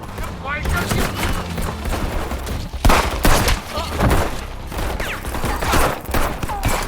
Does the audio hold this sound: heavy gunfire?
yes